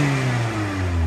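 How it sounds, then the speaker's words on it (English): Mazda MX5 Z-Sport engine revving close by, a loud continuous droning burble with a rising pitch through the short burst. "I'll just show you the sound of the vehicle."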